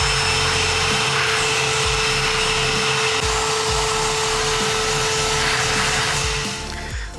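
A shop vacuum runs steadily and loudly, sucking up sawdust from woodworking on a copper-and-wood assembly, its whine constant before tapering slightly at the end; no talk.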